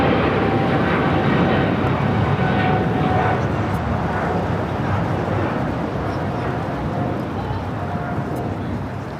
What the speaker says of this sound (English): Our next heavy takeoff, Japan Airlines, flight 1-5, heading to Tokyo Haneda